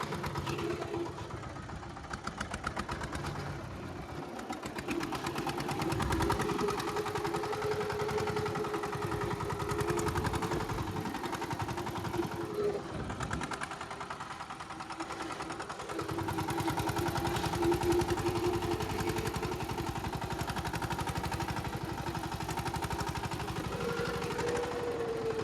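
A tractor engine runs steadily at a village farm field with a threshing machine nearby, a continuous mid-pitched rumble that holds for the whole stretch with slight rises and dips, no speech over it.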